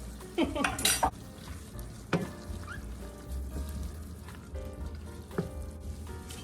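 Ground beef browns in a pot for one-pot taco spaghetti, a soft steady sizzle under sharp metal scrapes and clinks of a utensil stirring against the pot.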